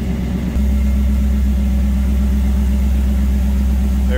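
A 1967 Chevrolet C10 pickup's 6-liter fuel-injected engine with headers idles up close, a loud, steady low rumble that holds evenly after a slight shift in tone in the first half-second, with no talking.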